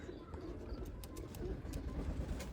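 Pigeons coo steadily in a breeder's loft of golden flying birds, soft repeated throaty calls layered close together over a low murmur, with a few sharper flutters or clicks breaking through.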